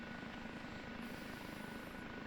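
An OH-58D Kiowa Warrior helicopter in a DCS flight simulator spools up as the collective is raised, producing a steady, fairly faint turbine and rotor drone with no break.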